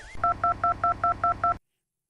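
Seven evenly spaced telephone keypad tones beep in quick succession, clear and close, then silence.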